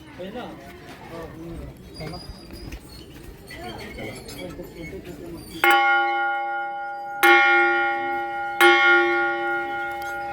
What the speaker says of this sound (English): The 700-old bell and I will now try to ring it.